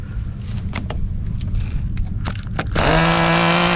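An HPI Racing Nitro RS4 nitro RC car has its small engine cranked in short rattling bursts, then it catches and settles into a loud, steady, high buzzing run, close up.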